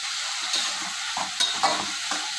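Ingredients for a dhaba-style capsicum masala curry hit hot oil and fry with a steady, close sizzle, with occasional stirring scrapes and spatters rising above the hiss.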